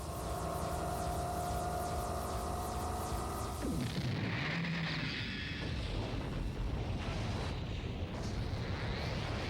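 A sustained, roaring spaceship cannon blast from the anime Macross II, with heavy low rumble and broad noise, following a tonal musical passage that cuts off abruptly.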